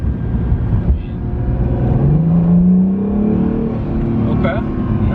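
An Acura NSX accelerates hard in launch mode, its engine note climbing steadily in pitch as the car pulls, loud and close from inside the cabin.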